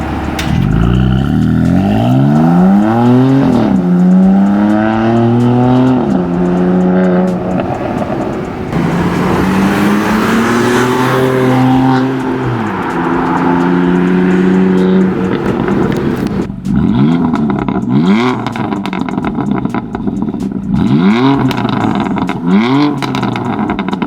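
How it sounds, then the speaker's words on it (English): A BMW F80 M3 with a raspy exhaust revs repeatedly to high RPM, the engine note sweeping up and falling back in loud, close bursts, with a brief rougher stretch in the middle and no voices. "let me just go ahead and show you guys some exhaust clips"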